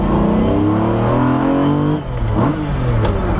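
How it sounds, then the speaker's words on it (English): An early Lamborghini Diablo engine revs loudly up close, with a rising, strained tone that drops off sharply as the throttle is released, then settles into a lower, rougher burble. "through the cockpit, the transmission, the gearbox, the engine, the timing chain make all these incredible noises"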